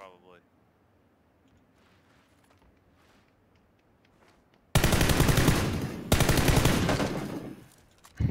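Gunfire in the PUBG battle royale video game: quiet game ambience gives way to a sudden loud burst of rapid automatic fire lasting several seconds, with a brief pause, then more shots, while players talk.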